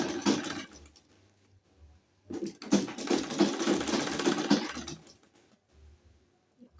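A sewing machine stitches a bias tape hem on a dress in two bursts of rapid, steady whirring, the first short and the second longer, with quiet low hum and soft clicks in the pauses between runs.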